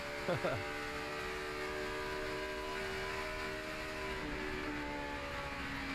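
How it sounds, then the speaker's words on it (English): High-pitched NASCAR stock car engines whine steadily and hold at high revs at Charlotte, a pack of cars droning past at a distance with their pitch slowly drifting. "you can hear those RPMs, that's hard on engines"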